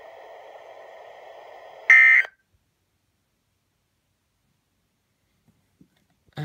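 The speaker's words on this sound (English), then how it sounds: "This concludes the tone alarm test." Emergency broadcast weekly test alarm tone, a steady loud two-tone beep held for about two seconds, ending in a brief louder burst, then near silence with a few faint clicks.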